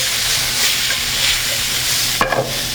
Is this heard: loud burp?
no